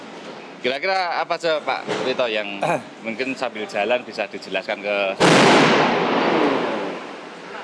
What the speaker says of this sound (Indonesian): Itu suara ban meledak